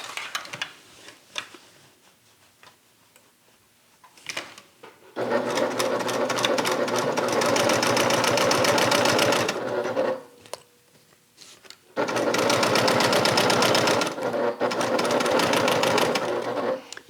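A sewing machine stitches a bag closure piece in two long, loud, steady runs, separated by quieter handling pauses.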